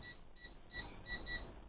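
A Japanese electric rice cooker beeps through its control panel, a series of short, high, clear electronic tones in uneven succession, quiet and close with no talking.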